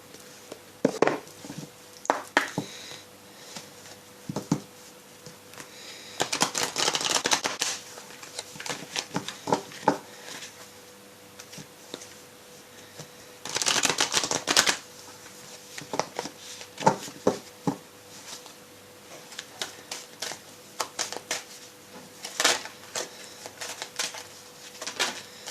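Oracle de l'âme intuitive oracle cards are shuffled by hand, giving repeated soft riffling bursts and light papery taps spread across a quiet room, with short gaps between rounds.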